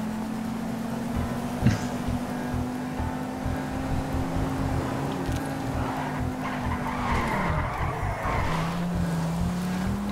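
Coupe-class sports car tires skidding in GTA 5 Online, a long steady screech sustained for several seconds over engine drone, then dropping lower near the end.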